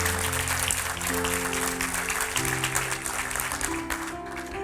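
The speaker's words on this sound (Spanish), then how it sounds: "denle un fuerte aplauso al Señor" A church congregation claps for several seconds in a dense, sustained round of applause, with sustained musical tones running beneath it.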